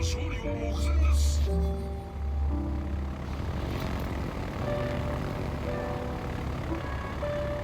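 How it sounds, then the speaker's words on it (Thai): Aircraft engines in a naval battle video game, a steady droning propeller hum with a louder swell early on and tonal game sounds over a constant background roar, with no talk. "ดูแค่ว่าเครื่องบินเรามานะครับ"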